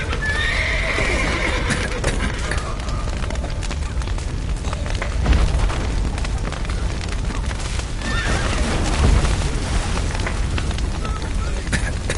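Horses whinny and neigh in a video game amid clip-clopping hooves and a dense, rumbling background, with occasional low booms; no talking.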